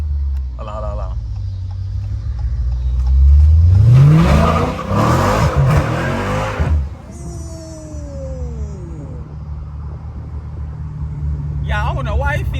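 A Dodge Challenger Scat Pack driven with its doors removed revs hard while sliding, its engine rising in a loud roaring surge that peaks and then cuts off sharply, followed by lower idling rumble; a person talks over parts of it.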